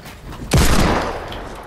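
A single close, sharp gunshot in a 1v1 video game match, a hard crack followed by a long echoing decay, loud and alone.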